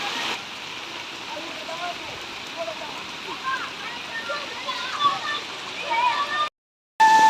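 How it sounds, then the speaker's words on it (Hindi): Rainwater pours down from rooftops steadily in a continuous hissing rush, with a voice faintly under it before a brief cutoff. "देखें कितनी तेज़ ऊपर से पानी आ रहा है छतों से"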